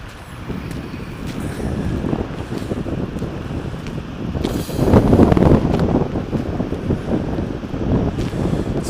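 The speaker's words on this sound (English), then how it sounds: "It's a bit windy. Hope the mic is not picking up too much of the wind." Wind buffets a microphone outdoors at Seljalandsfoss waterfall in Iceland, making a continuous rough roar with a stronger gust partway through. No voices are heard.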